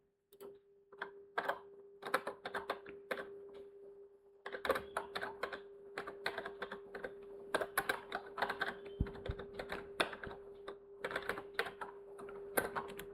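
Python code being typed on a computer keyboard: bursts of close, crisp keystrokes with a short pause early on, then quicker continuous typing over a faint steady electrical hum.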